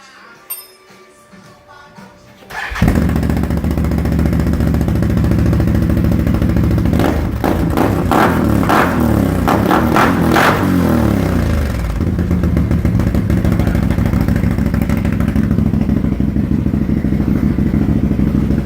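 A Can-Am Outlander 1000R ATV with a new exhaust pipe fires up after a few quiet seconds, then idles loud and close with a steady rumble and a couple of sharp revs in the middle.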